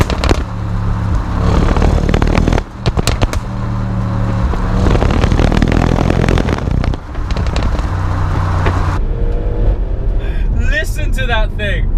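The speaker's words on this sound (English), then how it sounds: "Introducing the Stuttgart Symphony that is the V8 twin turbo in the" Audi RS6 Performance twin-turbo V8 engine revving, loud rumbling bursts with sharp pops and bangs in rapid succession, close by, trailing off into faint crackles at the end, with a voice talking over it.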